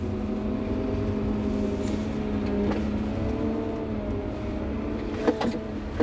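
A Cat M-series wheel loader's diesel engine runs steadily in range 2, torque converter mode, a close, humming drone with sustained tonal harmonics and a couple of brief knocks near the end, no voices.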